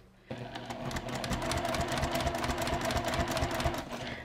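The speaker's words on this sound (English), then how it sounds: "I'll put my foot down, begin stitching." A sewing machine stitching fabric for a DIY book sleeve, starting abruptly and running steadily at close range with a fast, even mechanical whir and rapid needle rhythm, no talking.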